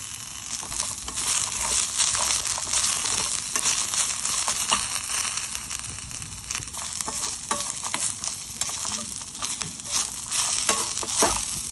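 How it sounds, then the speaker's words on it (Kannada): Steady sizzling and stirring as curry leaves and coriander fry in hot oil, a continuous crackle with scraping strokes of a spoon in the pan and no talking. "ಇದನ್ನು ಚೆನ್ನಾಗಿ ಫ್ರೈ ಮಾಡ್ತಾ ಇದ್ದೀನಿ"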